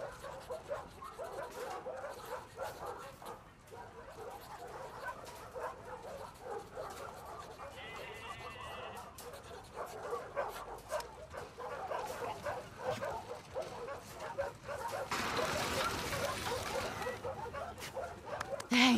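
A dog in The Last of Us Part II barks, yips and whimpers in short bursts through a busy game scene. The sounds are fairly close and sit among character talk and ambient noise.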